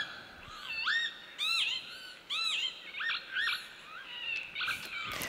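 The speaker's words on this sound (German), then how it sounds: "Und Sie haben uns auch den Kiebitz mitgebracht und seinen Gesang" A played recording of northern lapwing song on a stage at an environmental award ceremony, with a series of wheezy, rising and falling calls repeated in bursts over faint background hiss.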